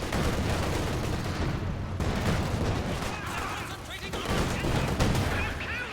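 Artillery barrage in the game Company of Heroes: a rattle of distant gunfire and dull bursts under a commentator's ongoing voice.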